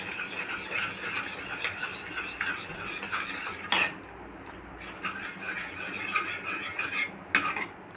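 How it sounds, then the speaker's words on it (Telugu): Cooked dal being mashed with a ladle in a pot after pressure cooking: steady metallic scraping and clinking of the ladle against the vessel, with a couple of sharper knocks, close and fairly loud. "ఇప్పుడు దీన్ని మంచిగా గంటెతోటి మెత్తగా మెదపాలండి."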